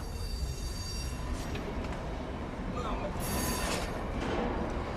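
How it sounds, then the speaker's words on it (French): Trains run through New York's underground tunnels with a sustained rumble of rolling wagons and brief high wheel squeals and hisses. A voice can be heard faintly beneath the noise. "Le bruit des trains, ça vous dérange?"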